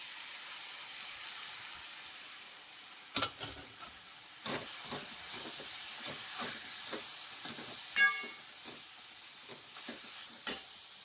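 Drumstick pods dropped into hot water with roasted masala in a home kitchen, giving a steady sizzling hiss broken by a handful of sharp splashing bursts, close and fairly loud with no one talking.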